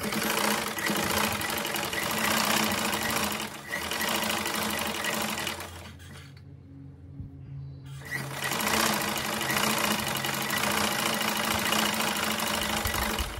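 A sewing machine stitches the side seams of a cotton jeans-style top with a fast, close whirring buzz, briefly pausing in the middle before stitching resumes at full speed.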